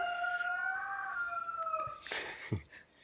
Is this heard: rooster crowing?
yes